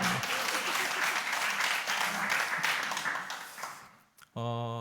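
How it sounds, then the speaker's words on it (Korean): A church congregation at an autumn revival meeting claps in loud, thick applause that fades over the last second. A voice then begins speaking. "박수 치려면 그냥 치시는 게 좋을 것 같은데."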